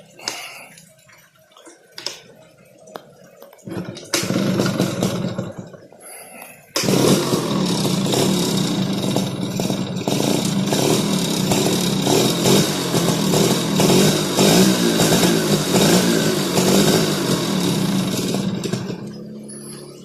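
A motorcycle fitted with a replacement Mikuni carburetor sputters through a few uneven bursts, then settles into a steady, close, buzzing idle that holds until near the end.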